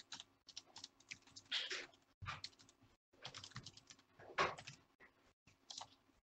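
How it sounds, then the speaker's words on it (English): An email address being typed on a computer keyboard: quiet, close key taps in short irregular bursts separated by brief pauses, without speech. "You type in your email address,"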